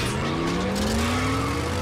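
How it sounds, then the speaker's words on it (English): Transformers robots in vehicle mode in a cartoon rev their engines and drive off, a loud continuous engine whine rising steadily in pitch with tire noise mixed in. "Let's rev up and roll out."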